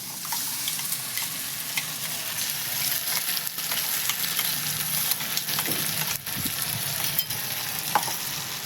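Onions fry with ginger-garlic paste in a pan for chicken kosha, giving off a loud, continuous sizzle and hiss. A spatula stirs now and then, adding occasional soft scrapes.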